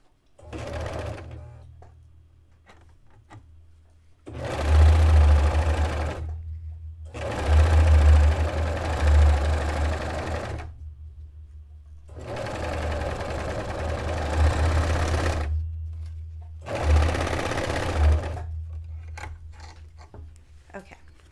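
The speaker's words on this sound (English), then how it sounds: "I am going to finish this edge with the serger to keep the lace attached to the fabric" A serger finishes the edge of lace and fabric in several bursts of rapid, whirring stitching, each a few seconds long, separated by short pauses, with a low motor hum underneath and a voice talking in between.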